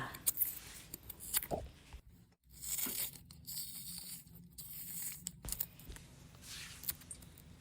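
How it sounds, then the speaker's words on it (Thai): Yellow cassava roots are peeled by hand, the skin giving repeated close rough tearing and crunching strips with brief pauses between pulls, no talking. "เดี๋ยวเราก็จะปอกเปลือกออกเลยค่ะ"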